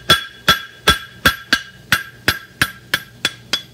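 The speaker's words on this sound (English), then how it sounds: "picking up with the edge of my hammer" Steady series of ten sharp, ringing hammer strikes on an anvil, roughly two per second, as a farrier shapes the heel of a horseshoe for a Stoneleigh hind shoe, close and loud with no talk.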